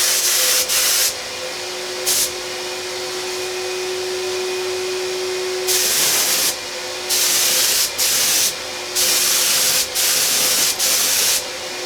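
A Fuji Mini-Mite 4 HVLP spray gun sprays paint in repeated loud hissing bursts of about a second each, over the steady whine of the turbine running underneath.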